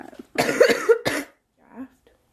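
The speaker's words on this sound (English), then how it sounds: "If you like my coughing, here's definitely a video for that." A woman coughs harshly in a thick, wet burst lasting about a second, then a shorter cough, followed by a faint rough throat sound and near silence, all close to the microphone.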